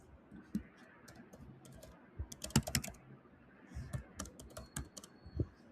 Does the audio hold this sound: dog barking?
no